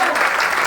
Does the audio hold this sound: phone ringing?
no